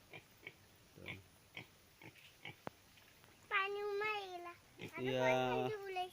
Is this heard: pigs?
yes